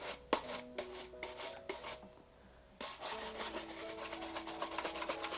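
A brush rubs over a leather Gucci loafer to clear dried haze, making quiet, close, scratchy strokes in quick repeated bursts, with a short pause partway through.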